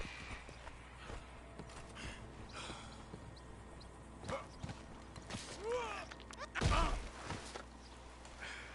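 Horse hooves clip-clop in the Red Dead Redemption video game, sparse and fairly faint, with creaks and a louder thump near the end.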